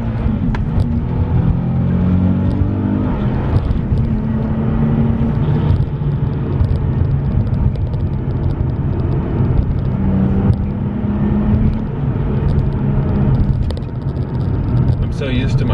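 A convertible Nissan 370Z pulls hard through first gear on back roads, its engine note rising steadily in a loud, continuous rumble as it climbs toward a high redline, with no pauses throughout.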